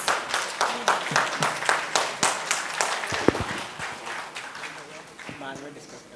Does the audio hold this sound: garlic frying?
no